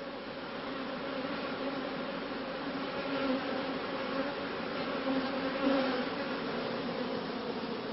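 A defensive honeybee colony buzzes loudly during a hive inspection, a dense, continuous droning hum of many bees that swells slightly at times and has no talk over it.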